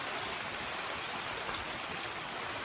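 Heavy rain pours down in a constant, even hiss of falling water, soft and somewhat distant, with no talking over it.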